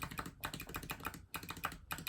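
A mechanical keyboard key fitted with a Zeal clicky switch is pressed repeatedly in quick bursts, giving sharp, close clicky taps in a busy irregular rhythm with brief pauses between runs.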